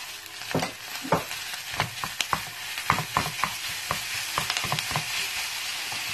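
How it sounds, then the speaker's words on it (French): Minced meat frying with softened onions in a pan, a steady close sizzle broken by sharp scraping stirs and clicks of a utensil at an irregular rhythm. "je vais rajouter ma viande hachée."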